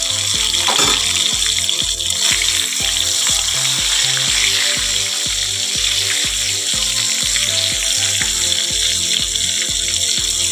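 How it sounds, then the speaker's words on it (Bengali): Pointed gourd frying in a pan in a home kitchen, a steady sizzle with regular bubbling pulses, close and loud throughout with no voices. "দেখো পটলটা আর একটু ভাজা করব,"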